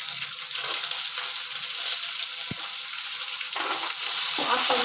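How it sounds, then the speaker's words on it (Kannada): Garlic and onion fry in a pan for a chutney, giving a steady close sizzle with occasional soft scrapes and clinks of stirring throughout. "ಹಾಕೊಂಡು ಸ್ವಲ್ಪ ಫ್ರೈ ಮಾಡ್ಕೋಬೇಕು."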